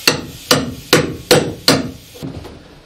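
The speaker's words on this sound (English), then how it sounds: "I've been digging it up with the chisel" A chisel strikes into wet bulking fabric in the floor of a Catalina 25 sailboat hull: five sharp, evenly spaced knocks about half a second apart, close and loud, then a softer final hit.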